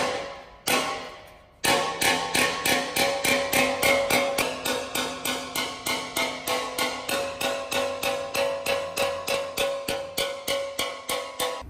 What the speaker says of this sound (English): we're gonna grab a hammer and just tap it out from the back